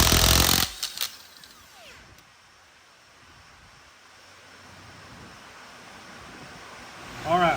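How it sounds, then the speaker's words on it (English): Steady rain drumming on the metal roof of a shop, a soft continuous hiss after a few loud knocks and bumps at the start, with faint rattles near the end. "Sorry about the rain noise, folks. This is a metal shop."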